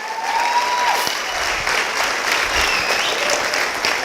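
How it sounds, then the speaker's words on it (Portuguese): A church congregation claps in a long, dense burst of applause, loud and steady throughout, filling the room without pause. "vamos aplaudir Jesus"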